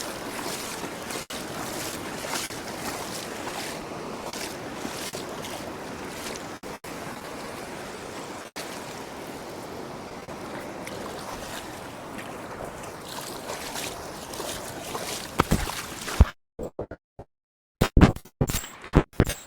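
Waves break on a beach during a sea fishing match, a continuous loud roar of surf with wind buffeting the microphone, cut by sharp crackles and dropouts near the end.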